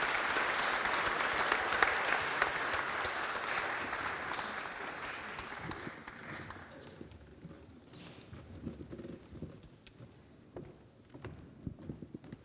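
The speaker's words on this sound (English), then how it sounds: "So you deserve applause." Audience applause at an international forum of marine universities in Nice, France, loud and dense at first, then thinning after about six seconds into scattered claps and low murmur.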